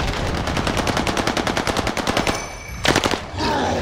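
Rapid automatic gunfire in a shooter video game rattles out in a long, evenly spaced burst, pauses briefly, then fires a second short burst, loud and close.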